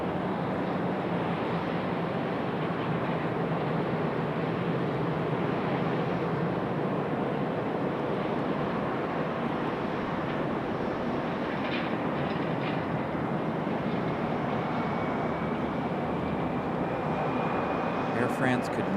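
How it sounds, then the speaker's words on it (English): A Delta Boeing 717 jet departs Raleigh-Durham airport, its engines making a steady broadband roar that holds loud and constant throughout, with a faint rising tone near the end. "Now we've got our Delta Boeing 717 about to make its way back to Detroit."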